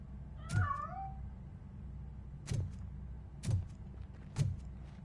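A cat in the RoboCop: Rogue City video game lets out one drawn-out meow, followed by three short, sharp, close-up meows spaced about a second apart, with no talking.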